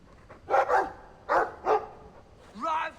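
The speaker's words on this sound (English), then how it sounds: "I like the doggy. He's speaking more." A dog barks in the Dragon Age 2 video game, giving a few sharp, loud barks in quick pairs over game sounds, followed by a softer whining yelp.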